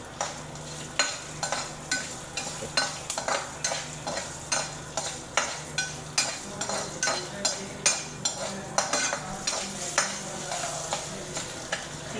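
Urad dal sizzling in hot oil for a tempering, stirred with regular scraping strokes roughly every half second, close and steady with a continuous frying hiss beneath, no talking.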